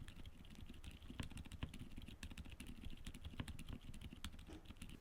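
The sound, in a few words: typing on silent linear mechanical keyboard switches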